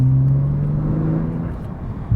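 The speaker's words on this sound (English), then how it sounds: "It is a different car in sport mode compared to normal, though. The exhaust opens up a lot." A sports car in sport mode with its exhaust opened up, producing a loud, close, deep droning rumble that holds steady and gradually eases, with a brief surge at the end.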